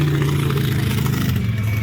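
A monster truck engine rumbles steadily with a deep, continuous drone at an outdoor monster truck show, revving slightly as it holds a loud, close roar.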